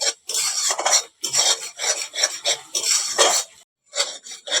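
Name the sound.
stirring mango pulp in a wok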